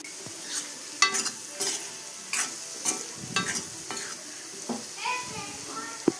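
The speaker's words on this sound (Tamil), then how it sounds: "அதுலேயும் ஒரு 5 நிமிஷம் ஃப்ரை பண்ணிக்கலாம்" Amla pickle masala frying in oil on medium flame, stirred with repeated scraping strokes against the pan over a continuous sizzle, close and fairly loud.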